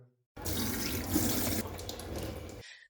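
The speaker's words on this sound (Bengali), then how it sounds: "তাহলে হাত পাত ধোয়া দিও" Tap water runs steadily into a sink as hands are washed, a close, full gushing stream that starts abruptly and stops after about two seconds.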